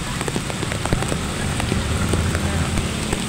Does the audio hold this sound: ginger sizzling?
no